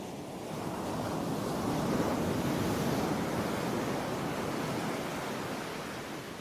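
Sea waves roll along the coast at Faro Belén in Argentina, a broad, continuous surf roar that rises and then eases slowly, with wind rushing across the microphone.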